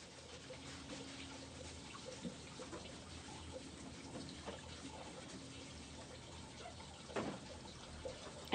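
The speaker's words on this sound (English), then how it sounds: "rinse the outside of the container and dry it off with a paper towel" A chemical container being rinsed under running water while setting up a darkroom, a steady low trickle continuing throughout at moderate distance with a brief louder splash near the end.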